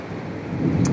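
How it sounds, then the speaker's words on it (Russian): Thunder rolls over a log house under construction, a low, broad rumble that swells toward the end, with rain noise mixed in and no speech. "Слышите, гром гремит."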